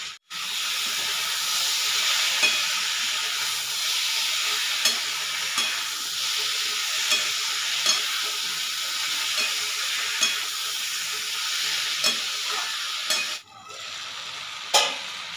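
Spices with salt and turmeric fry in a wok for fish curry with vegetables, giving a steady, close sizzle. Faint stirring clicks recur throughout, with a brief dip near the end followed by a sharp scrape.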